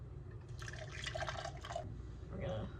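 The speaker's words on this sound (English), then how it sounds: "Hot water." Hot water poured from a kettle into a mug of Trader Joe's instant coffee with sugar, a soft, steady splashing fill lasting about a second, faint and close in a quiet room.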